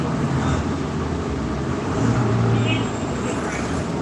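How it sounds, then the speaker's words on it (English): A loud bus passes on a town street in Gettysburg, Pennsylvania, a continuous low engine rumble and roadway roar filling the whole stretch, swelling slightly midway. "I feel like this bus is a lot louder."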